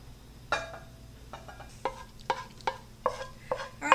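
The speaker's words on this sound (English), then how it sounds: "make sure that you get all the rice out of the pan here" A spoon scrapes rice pudding mixture from a pan into a baking dish. It makes eight or so sharp, close scraping knocks at an uneven pace, alone with no talk.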